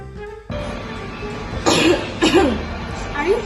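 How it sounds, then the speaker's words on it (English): A person coughs several times in a short, harsh burst, close to the microphone, over a steady background hum. "Are you coughing?"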